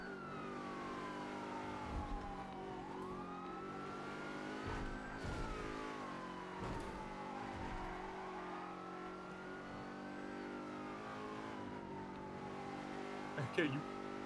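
A fast car in GTA roleplay races along, its engine whining and shifting pitch as it accelerates and drops, with police sirens and thumps under talk from players throughout.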